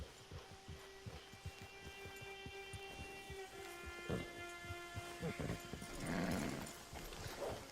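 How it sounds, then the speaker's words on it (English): Horse hooves clip-clopping at a steady walking pace in the Red Dead Online video game, a rhythmic run of close taps over a low ambient game backdrop with faint tonal music. "Get your horse."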